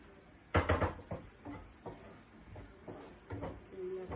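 A pot of samp and beans seasoned with turmeric is stirred, making a series of soft scraping and knocking strokes from a spoon against the pot over a faint background hiss.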